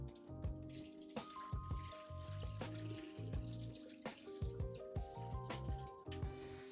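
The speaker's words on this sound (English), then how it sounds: "So make sure you're rinsing your rice." Rice being rinsed in water in a bowl for a cheddar broccoli chicken rice casserole, with quiet irregular splashing, swishing and dripping, close and faint, with no talking.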